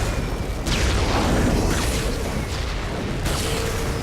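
Explosions from bombers' friendly fire in the Warframe video game hit as a few heavy booms with sharp bursts, loud and close, separated by short gaps of rumbling noise.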